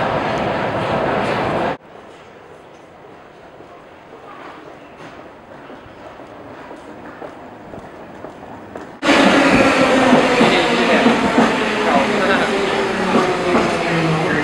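An old train rolls along in Budapest with a loud, continuous rumble and rattle. The noise drops abruptly to a quieter hum partway through, then returns suddenly at full volume.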